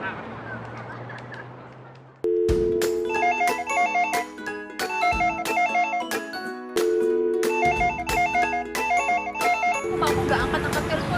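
A telephone rings in repeated electronic bursts, loud and close, with short gaps between rings, preceded by a brief stretch of background noise.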